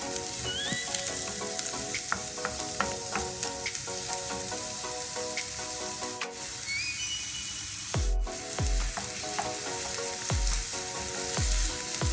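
Diced onion and minced garlic sizzle steadily in a hot pan, loud and close, with stirring scrapes and a thin whistling tone over the frying.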